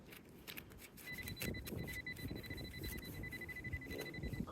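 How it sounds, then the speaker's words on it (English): Metal detector, an LG30, held near a wall and giving a thin, steady electronic tone over scraping and handling noise close by, fairly faint overall. "It's my detector. Is that going nuts?"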